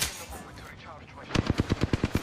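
Automatic weapon fire in the video game Apex Legends, a rapid burst of about ten evenly spaced loud shots arriving after a stretch of rumbling game noise, close and punchy.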